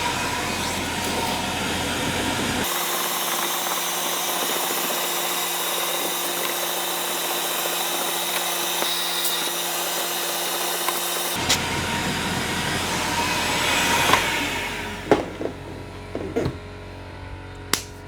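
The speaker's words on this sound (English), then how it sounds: "I'm just going to go over it one more time for the heck of it with my vacuum." A wet/dry vacuum runs continuously while cleaning a car interior, a loud, steady whine and rush of air that holds for several seconds, then shifts in tone, followed by scattered bumps and knocks as the nozzle moves around.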